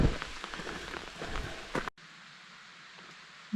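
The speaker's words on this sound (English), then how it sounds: "It's not raining hard." Light rain patters on a wooded hiking trail along the Appalachian Trail near Bland, Virginia, a soft, dense crackle of drops close by before it cuts to a quieter background.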